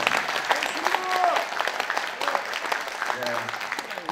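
Audience applause at a Korean security lecture and open-air concert in Busan, a steady burst of clapping lasting a few seconds with speech mixed in.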